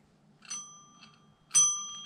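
A cat rings a small bell twice, each strike a bright metallic ding with a ringing tone that fades slowly, the second louder, with quiet gaps between.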